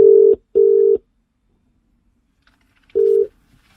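A telephone being dialled to ring someone, heard as three loud, clean electronic tones: two quick beeps close together, a pause, then a third beep, alone with no voices.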